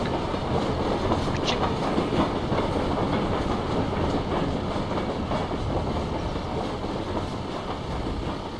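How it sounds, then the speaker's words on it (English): A train rumbles past in a video game with a steady clickety-clack of wheels on rails, loud and continuous, with a brief high squeal near the start. "There's the train."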